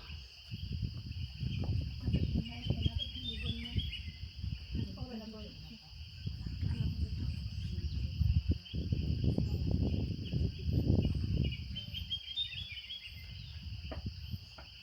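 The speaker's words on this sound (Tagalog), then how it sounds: "Ang daming ibon." Crickets trill continuously in a high steady drone while many birds chirp intermittently in the Philippines; a voice murmurs at times beneath them, and there is low rumbling background noise.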